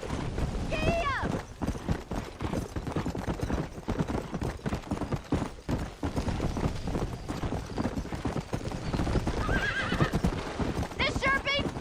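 Horse in the Red Dead Redemption game galloping with steady clip-clop hoofbeats throughout, neighing and whinnying several times, while characters talk over the ride.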